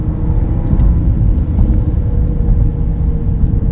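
A 2023 Audi A6 S line under full-throttle kickdown, heard from inside the cabin as a loud, steady low engine drone and road rumble with no talk.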